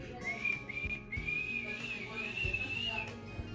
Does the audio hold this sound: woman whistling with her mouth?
yes